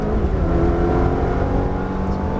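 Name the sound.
Ferrari F430 engine accelerating on track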